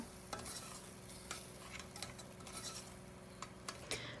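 Cream is stirred into a mushroom soup with a spoon, making faint intermittent scrapes and taps against the pot over a quiet, low simmering hiss.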